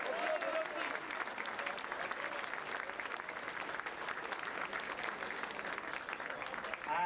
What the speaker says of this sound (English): How about a nice big round of applause for our talented executive chef, Mr. Marcus, all the way from Australia.